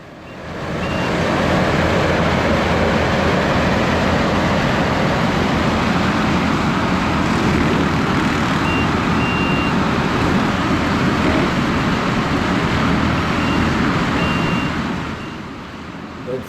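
A large, powerful land-clearing machine, the size of a D3 Cat dozer, chops through cedar with a loud, steady engine roar and grinding that ramps up, holds unbroken for about fifteen seconds, then eases off.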